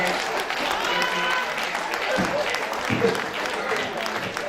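Applause from an audience at a management lecture in Nigeria, a continuous dense patter of clapping with some voices mixed in, moderately loud and sustained.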